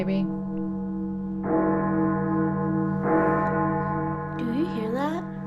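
A sustained, deep bell-like tone rings steadily, with stronger swells partway through and a voice briefly joining near the end.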